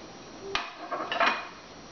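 Shredded carrots being tossed and mixed for green papaya salad, a few brief clinks and scraping rustles against a bowl, close and soft over a steady low hiss, with no talking.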